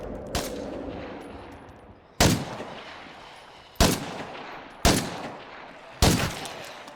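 Five loud, widely spaced gunshots in State of Decay 2, each a sharp crack trailing off in a reverberant tail, fired at an uneven pace over seven seconds.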